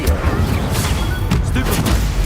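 An Incendio fire spell is cast in Hogwarts Legacy: loud, close whooshing blasts and booming bursts with crackling bright edges, several in quick succession over rumbling game combat.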